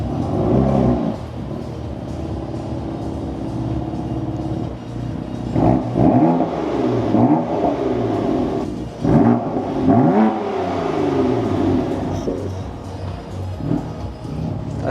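A warm BMW F82 M4 with the S55 engine idles steadily, then revs up in several rising bursts, loud and close, settling back to idle between each rev.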